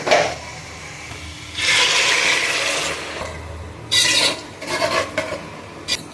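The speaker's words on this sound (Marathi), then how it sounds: "गरम पाणी घालायचं दोन ग्लास गरम पाणी घालूया" Hot water pours into a pot of egg biryani in a couple of rushing bursts, splashing and swirling close by, followed by shorter sloshing spurts and a final brief pour.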